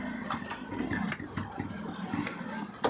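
A sewing machine stitches jeans being shortened and taken in at the waist, giving a brief, close, rapid mechanical whir with small uneven thumps.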